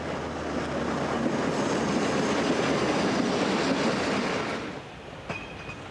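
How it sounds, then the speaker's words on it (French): An SNCF BB 66000 diesel locomotive hauls a heavy train of flat wagons loaded with rock blocks on the Abbeville–Le Tréport line, a loud rolling rumble with wheel clatter that fades toward the end, followed by a brief squeal. "comme cette rame de wagon plat chargée de blocs d'enrochement sur la ligne d'Abbeville au Tréport"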